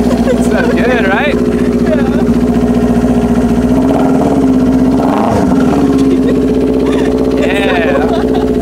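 A Kawasaki Z400 motorcycle runs loud and close at a steady idle, with a couple of throttle blips rising and falling partway through.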